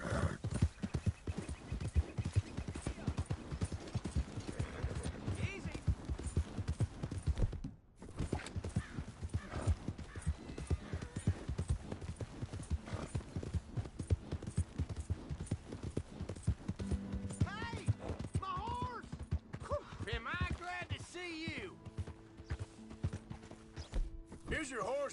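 Horse hooves clip-clop steadily in Red Dead Redemption 2, a continuous rhythmic trot with a brief pause, mixed with game ambience, a whinny and quiet voices talking.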